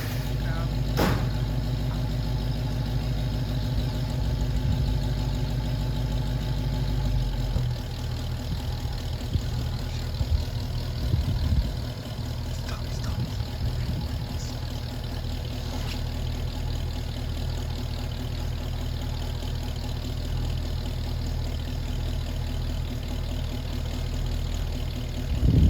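A 1974 AMC Javelin engine idling steadily in a garage, a constant low rumble with a steady hum throughout, with talking over parts of it.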